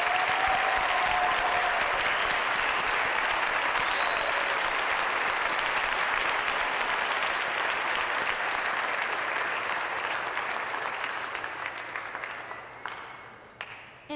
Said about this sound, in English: Please join me in giving all of our award winners a final round of applause.